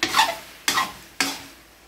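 Pork igado with green peas cooking in a pan, three distinct scraping stirs about half a second apart, each dying away over a soft sizzle, close and clear.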